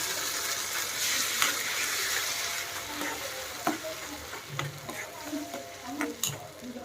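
Tomato paste frying in a pan with onions, capsicum and carrot, a dense continuous sizzle with scattered stirring clicks and scrapes close by, no voice over it.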